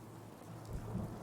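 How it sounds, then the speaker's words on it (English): Rain falls steadily in the video game Fallout 4, heard as a soft, even wash with a low rumble swelling toward the end. It is faint and has no talk over it. "And it's kind of rainy and miserable out."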